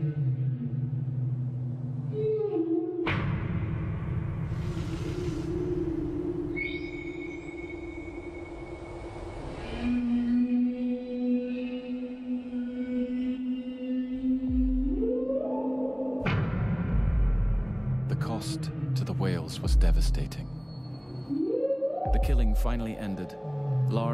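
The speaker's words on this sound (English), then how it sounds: "Huge cookers and whale oil tanks creak and groan with the wind." Huge cookers and whale oil tanks at an abandoned whaling station on a remote Atlantic island creak and groan in the wind, with long, low, resonant metallic moans and grinding tones, alone and fairly loud.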